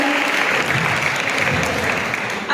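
A church congregation breaks into sustained, dense applause that stays loud and even throughout, with no pauses.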